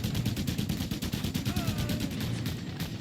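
Gunfire in the open-world action game Just Cause 2: a rapid, evenly spaced automatic burst of shots running continuously, loud and close, with a low rumble underneath.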